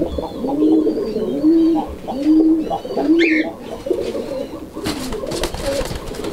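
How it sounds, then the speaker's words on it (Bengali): Kaldom pigeons at a farm coo repeatedly in a close, rhythmic series of deep rolling calls, followed by rustling and flapping bursts at the end. "নটটা যে কি পরিমাণ ডাকাডাকি করে আপনারা অলরেডি দেখছেন"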